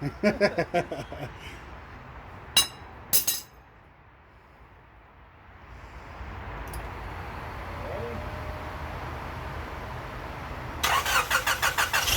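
A 1996 Honda Accord engine fitted with the wrong head gasket cranks with rapid rhythmic chugging on its first start, then settles into a steady low idle before another burst of cranking; close by, no voices.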